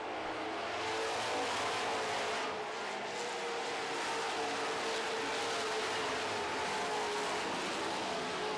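Super stock race cars running around turns 1 and 2 of an oval, a dense, steady roar of several engines blending together at a constant distance, with no single car standing out.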